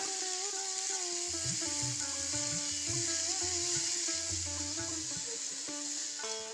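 Yam and spring onion frying in a pan, with a soft, even sizzle and intermittent stirring scrapes near the mic, and a tonal, melodic sound running underneath throughout. No one speaks.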